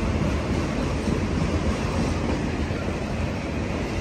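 A Union Pacific auto rack freight train rolls past the Oakland Coliseum Amtrak station in a loud, continuous broadband rumble with a low clatter of wheels, steady for the whole stretch and with no talk over it.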